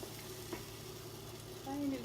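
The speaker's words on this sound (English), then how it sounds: "Take a little broth. See, it's sizzling." Broth sizzles steadily in a hot pan while Bavarian Krautkrapfen (kraut crullers) are cooked, a constant soft hiss that continues as a voice speaks briefly near the end.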